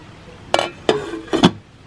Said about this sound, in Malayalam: കറിക്കൊന്ന് ഇളക്കി കൊടുക്കാം.